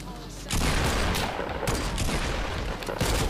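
Gunfire rattles in a Fortnite match, a dense fusillade of rapid shots that kicks in abruptly and keeps going at a steady, loud pace with brief surges of sharper reports.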